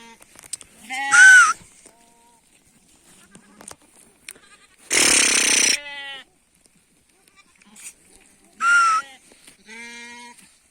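Goats bleat three times in wavering, nasal cries spaced a few seconds apart, with a harsher, noisier call in the middle and quiet between.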